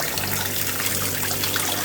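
Steady shower water runs continuously in a campground shower, a dense, even hiss with no talking.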